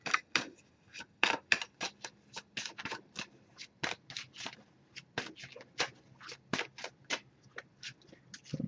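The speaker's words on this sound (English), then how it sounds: "we're going to give it a few more shuffles" An oracle card deck is shuffled by hand, giving a steady series of crisp, close clicks and flicks of cards with no talk.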